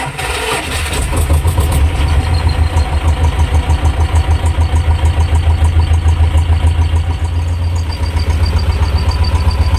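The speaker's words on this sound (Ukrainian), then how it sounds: "Запускаємо двигун." A T-25 tractor engine cranks and catches, then settles into a loud, steady diesel idle with a rapid rhythmic chug throughout.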